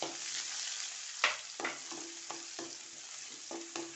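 Garlic drops into hot oil in a pan while a Kerala-style jackfruit seed masala curry is being cooked. A steady, fairly quiet sizzle runs throughout, broken by several sharp spoon scrapes and stirring clicks, with no talking.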